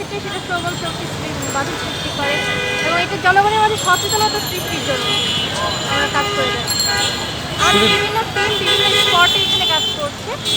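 Car horns honk repeatedly in busy Dhaka street traffic, with tooting bursts over a constant roar of engines while a person speaks close by.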